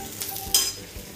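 Cumin seeds hit a pan of lightly sautéed onion and give a short, close sizzle with a sudden bright crackle partway through, alongside faint stirring noises.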